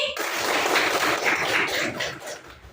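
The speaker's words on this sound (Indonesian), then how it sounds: "tepuk tangan dulu buat Hani" A classroom of students claps for a classmate, a brief burst of dense, close applause that starts abruptly and holds steady before easing off.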